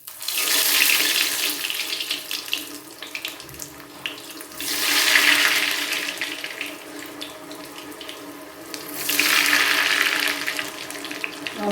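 Three masala-stuffed bread rolls fry in a small pan with a little oil, making a continuous sizzling hiss that swells louder in three broad waves, with no talking.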